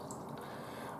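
Water poured into a measuring cup to measure 200 millilitres for carrot cake batter, a steady trickling pour lasting about a second at moderate level.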